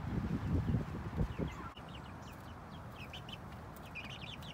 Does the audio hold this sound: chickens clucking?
yes